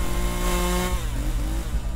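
A chainsaw in the Escape the Backrooms video game runs with a steady, loud, buzzing engine drone that shifts slightly in pitch partway through, with no talking over it.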